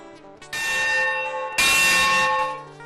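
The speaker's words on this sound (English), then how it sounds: "This bell is from the Manistee and Northeastern Railroad engine, number 18." A large metal bell from Manistee and Northeastern Railroad steam locomotive number 18 rings twice, each loud clang leaving a long, shimmering ring that fades slowly.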